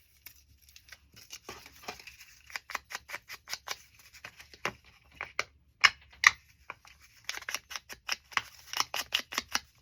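Scissors trim the edge of a journal page in a quiet room, making a run of crisp, close snips in quick bursts. Short pauses separate the groups of cuts, and light paper rustling comes between them.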